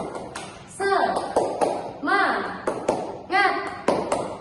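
Children performing the 'tepuk semangat' clapping chant in a classroom, rhythmic bursts of group clapping mixed with shouted young voices in a quick repeating pattern.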